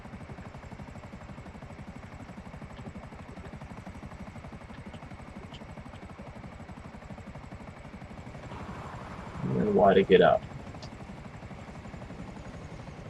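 A Buzzard attack helicopter in GTA V whirs with a steady, droning rotor and engine hum that holds for the whole stretch. Someone speaks briefly near the end, and his voice rises over the constant heli noise.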